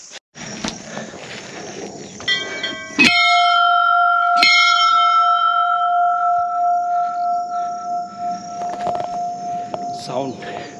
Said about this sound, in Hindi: अब आप देख सकते हो घंटियाँ कितनी सारी लगी है इस साइड भी